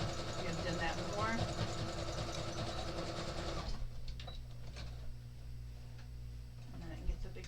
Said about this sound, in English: I'm going to zigzag one on, one off